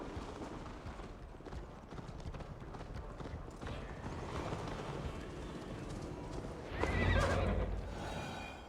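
Horses in Assassin's Creed Valhalla, rapid hoofbeats drumming steadily through the scene with a loud whinny bursting out near the end, set against ambient outdoor sound.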